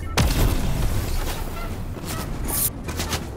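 Incoming gunfire strikes the player in a Fortnite match, heard as a loud initial impact followed by a dense, continuous clatter of shots and hits, with sharper cracks near the end.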